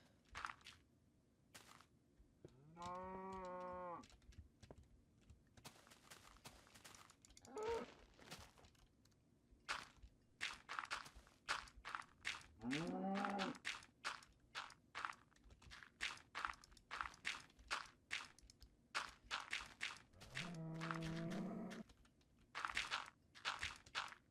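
Minecraft cow mooing during cave repair gameplay, with four drawn-out low moos spread across the stretch, mixed with rapid crunchy block footsteps and digging clicks.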